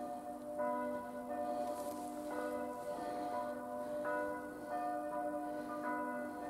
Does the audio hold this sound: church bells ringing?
yes